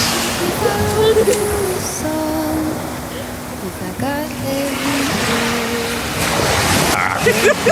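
Sea waves washing on the Welsh coast near Abergele, a steady roar of surf mixed with wind and splashing. Voices and other sounds rise intermittently over the water noise.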